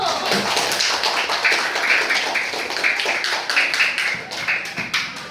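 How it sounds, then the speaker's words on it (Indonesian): Schoolchildren clapping their hands together in an elementary classroom, a dense, steady patter of many small hands lasting several seconds at close range, with scattered voices mixed in. "Ya, tepuk tangan dulu."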